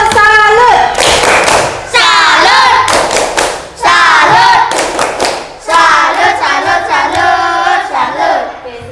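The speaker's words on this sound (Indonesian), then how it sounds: "Jadi tepuk salut dulu untuk kelompok 4." A classroom of students does a rhythmic clapping cheer for a group, with bursts of synchronized claps between loud chanted shouts, the teacher's voice leading the rhythm.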